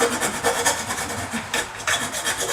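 A half round file rasps back and forth inside a saw cut, smoothing its rough edges in a series of close, steady scraping strokes with no talking.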